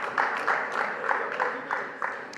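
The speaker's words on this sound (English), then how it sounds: "Round of applause for all of you guys." Applause from a conference audience at a business talk, a steady moderate patter of many hands with periodic swells, heard at a distance without speech over it.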